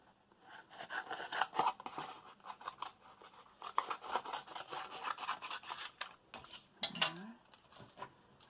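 Scissors snipping around a die-cut sentiment strip of card, close and quiet, with irregular crisp cuts and rustling paper and a faint clink near the end.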